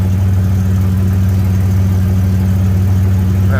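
Chevy S10 Blazer engine idling just after starting, a loud, steady, low rumbling hum heard up close throughout with no talking.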